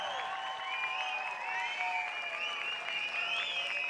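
Dense, sustained applause from a festival audience at Jánošíkové dni for a young female folk band from Terchová, clapping steadily throughout with faint tonal ringing mixed in.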